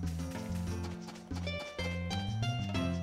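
Horse on a farm in the video game Harvest Moon A Wonderful Life, heard as faint hoofbeat clip-clops beneath loud, continuous tonal game music with steady chords throughout.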